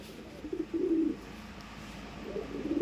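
A Kaldom pigeon cooing in two soft, low rolling bursts separated by a short pause, close but quiet, with no talk.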